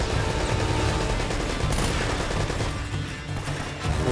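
Dense, continuous bursts of rapid gunfire from a firefight in Uncharted: Drake's Fortune, loud and steady throughout, with a slight dip near the end.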